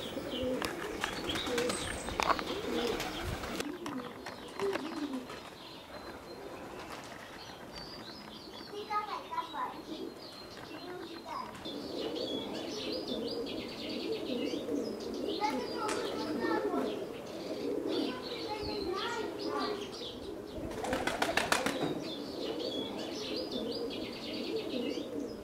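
Tbilisi fighting pigeons coo at a spring pigeon gathering, soft rolling calls mixed with chirps and distant children's voices, while people talk over them throughout.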